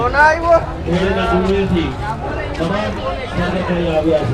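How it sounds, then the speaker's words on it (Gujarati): Jafarabadi buffalo lowing amid a noisy crowd at the Tarnetar fair livestock competition, with people talking and calling throughout; the animal sounds are close and repeated under the chatter. "તમે જોઈ શકો છો આ જાફરાબાદી પાડો છે"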